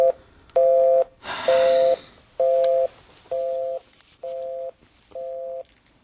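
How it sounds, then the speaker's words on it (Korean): Telephone busy signal after dialing: a quick burst of dial tones, then seven evenly spaced steady beeps, loud and close, with no voice. "아이, 계속 통화 중이네."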